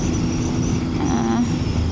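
Triumph motorcycle engine running steadily nearby, a smooth mid-pitched hum with a brief rise in revs partway through and no talk over it.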